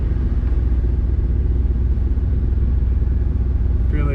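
Honda H22A engine swapped into an EK chassis, idling steadily with a deep, even rumble held at a constant level for the full stretch, loud and close with no voices over it.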